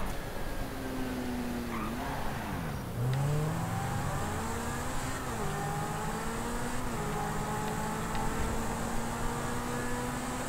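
Car engine revving and shifting through gears in GTA 5 Online, the pitch climbing and dropping repeatedly over a steady loud drone, with a brief deep rumble partway through; no talking.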